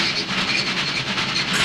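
Cartoon train from a 1931 Tom and Jerry short rolling along rails, a steady rhythmic clatter with hiss, fairly close and continuous, with no talking.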